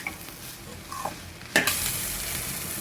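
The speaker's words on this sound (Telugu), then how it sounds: "ఇలా బాగా మసాలా అంతా వాసన పోయేదాకా వేయించుకోవాలి" Masala for a village-style egg and onion dish sizzles and fries in a pan, with a steady hiss, occasional stirring scrapes, and a sudden louder burst of sizzling partway through, no voices present.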